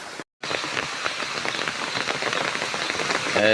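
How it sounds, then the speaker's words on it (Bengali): Steady rain falls on surfaces outdoors near a poultry yard, a dense continuous patter broken by one brief dropout, with no talking. "এই যে বৃষ্টি পড়ছে"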